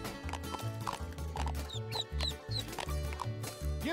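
Cartoonish chicken clucks and squawks from the Toy Story Mania video game, repeating over a bouncy rhythmic game soundtrack, fairly quiet overall.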